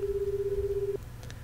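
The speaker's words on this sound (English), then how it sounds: "do you like my new ringtone?" A video game phone ringtone plays as a steady sustained tone for about a second, then cuts to faint electronic blips; no one talks over it.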